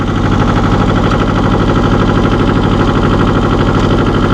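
A 1984 John Deere 650 compact tractor engine runs steadily, a loud, close diesel chug with a fast even knocking pulse that holds without change and has no voices over it.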